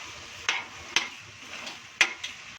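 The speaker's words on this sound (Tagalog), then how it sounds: "Tapos, hahaluin na natin." Pork bopis stirred in a pan with soy sauce, a soft sizzle under several distinct clacks and scrapes of a spoon against the pan, spaced unevenly and close by.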